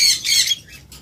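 Opaline lovebirds give two harsh, high squawks in quick succession, close and fairly loud, followed by a fainter chirp.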